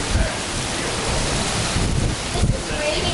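Heavy rain pouring during an afternoon thunderstorm on the Trestle Trail, a loud, constant roar of broadband noise with wind buffeting the microphone, no pauses across the few seconds.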